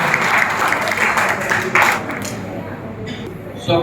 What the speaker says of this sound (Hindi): एक बार जोर से तालियों के साथ